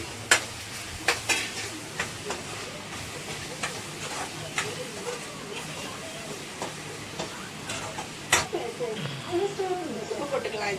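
Tomatoes with chili powder, coriander, cumin and turmeric sautéing in a pan, a soft sizzle under repeated spoon scrapes and stirring clinks, with someone talking over it.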